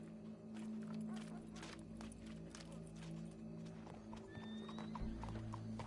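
A horse in Red Dead Redemption 2 clip-clops at a walk in steady hoofbeats and gives a clear whinny partway through, with faint game ambience underneath.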